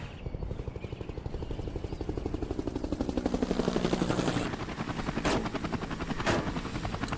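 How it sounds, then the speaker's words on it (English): Attack helicopter rotor chopping steadily in the video game Air Conflicts Vietnam, a continuous rhythmic thump close and loud, with sharp bursts of gunfire cutting in near the end. "Attack helicopter."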